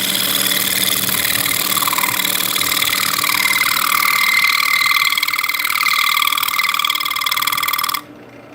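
A wood lathe turns a box elder piece with a loud, continuous chattering drone and high whine, steady for about eight seconds before it cuts off sharply, leaving a quieter motor hum.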